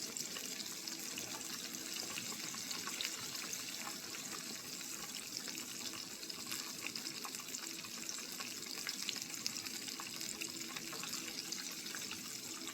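Shrimp frying in hot grease give a steady, faint crackling sizzle with fine spattering, an even hiss that holds without pause and no talking over it.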